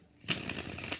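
A brief riffle of tarot cards being shuffled, a quick papery flutter close by that starts abruptly and lasts under a second, quiet and alone.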